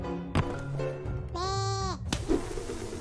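Game sheep bleat during a tabletop-style playtest session, a single wavering synthetic bleat of about half a second standing out over a steady low background hum.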